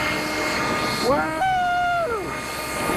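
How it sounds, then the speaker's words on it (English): A leaf blower gives a short burst, its whine climbing in pitch, holding briefly, then dropping away, with a voice in the background. "So this thing is what you call a blower."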